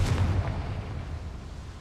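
A Confringo fire spell blast in Hogwarts Legacy, a single booming explosion up front whose low rumble and debris roll away over the next second and a half, with no voices.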